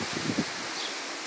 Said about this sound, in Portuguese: Olha a ventania que tá aqui.